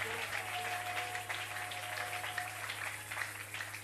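A church congregation applauds, a steady wash of many hands clapping together at moderate volume, with a faint hum underneath.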